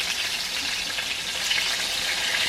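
Sausages, a whole pack, frying in a pan: a steady, close, dense sizzle with fine crackling that holds evenly throughout, no voices.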